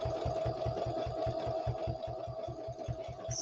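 A sewing machine stitches the flap of a fabric needle book, a rapid, steady mechanical thumping over a constant motor hum, close and moderately quiet, with no talk.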